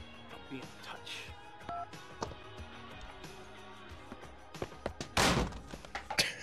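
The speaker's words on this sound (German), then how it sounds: "Auch das lauteste Telefon auf den Boden schmeißgeräusch in der Videospielgeschichte" In GTA Vice City, a telephone is thrown to the floor with a sharp crash and clatter, after a series of dull thunks and beeping tones in the game's cutscene.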